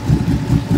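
A 2018 Dodge Charger Hellcat with a 6.2 engine and straight pipe idles with a deep, loud, lumpy rumble that pulses steadily and up close, with no voices.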